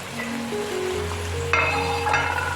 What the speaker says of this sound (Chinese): 将马铃薯与酱汁彻底的炒拌均匀。